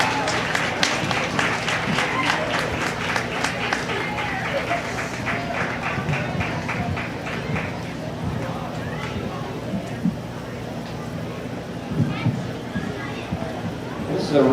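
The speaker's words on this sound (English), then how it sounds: "give them another round of applause" An audience at a feeder calf show claps in a dense burst that fades after several seconds, leaving a murmuring crowd and occasional voices in the background.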